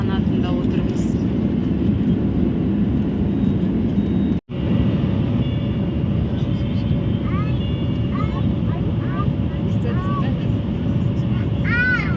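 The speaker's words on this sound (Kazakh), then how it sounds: "Кішігірім ұшақ екен" A small passenger airplane cabin heard from a seat beside the wing, a steady loud engine drone with broadband rumble throughout, one brief dropout, and faint voices talking in the background.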